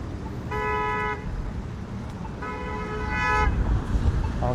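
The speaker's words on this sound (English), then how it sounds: "Honk, honk, honk." A Toronto LRT train horn sounds during testing near Lebovich Avenue in Scarborough's Golden Mile: two sustained tonal blasts, each about half a second to a second long, separated by a pause over steady street traffic.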